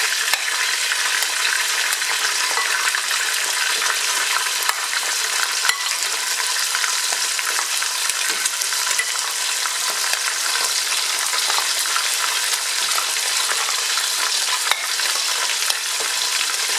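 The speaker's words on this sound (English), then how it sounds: "it's just the meat only that I want to fry a bit." Meat fries in ordinary cooking oil for a Ghanaian waakye stew, giving a dense, loud, unbroken sizzle that holds steady throughout, close up with no voices.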